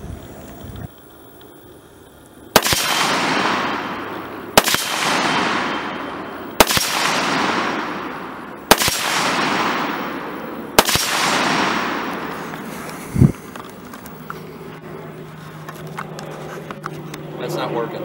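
Five loud, sharp gunshots at a shooting test, each with a long decaying echo, fired one at a time about two seconds apart after a quiet start.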